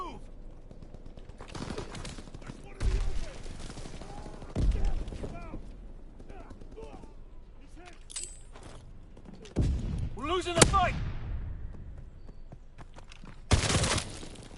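Gunfire bursts erupt in a war video game, with sharp shots and short rattling volleys scattered through steady background rumble, and someone speaking at points between them.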